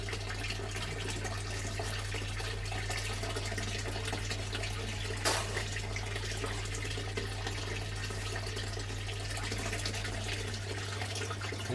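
Water runs steadily through a gold sluice carrying gravel material while sluicing in Scotland, a continuous close rushing flow with one brief louder splash near the middle.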